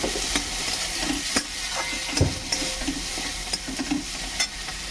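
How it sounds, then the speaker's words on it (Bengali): Chopped tomato fries in a pan as it is stirred, with a continuous sizzle broken by repeated scrapes and knocks of the spatula, close and fairly loud, with no voices. "টমেটোটা দিয়ে একটুখানি নেড়ে চেড়ে নেবো"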